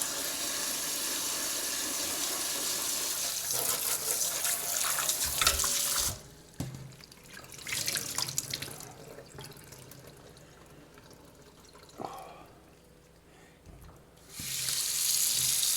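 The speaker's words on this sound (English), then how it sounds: "wash that brine off. Otherwise it will be way too salty if you don't wash this real good." A kitchen tap runs hard as raw brined chicken, innards still inside, gets rinsed in the sink. Water pours steadily, breaks off into handling and splashing, then gushes again near the end, with no talking.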